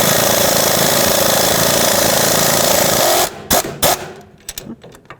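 Power tool whirring continuously and loudly up close as it spins a front strut stud out of its nut on a 2005-2009 Chevy Equinox, then cutting off into a few brief clanks and rattles.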